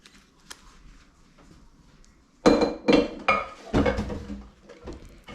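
Banana nut bread batter going into a loaf pan, with a few loud clanks and scraping knocks of a utensil against the pan after a quiet start, close by.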